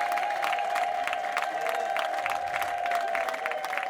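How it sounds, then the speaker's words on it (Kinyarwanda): Women in a church congregation ululating loudly, a sustained high trilling wail ringing over crowd noise and rhythmic clapping, continuous and close throughout. "Nagira ngo ababyeyi bamfashe bavuze impundu cyane."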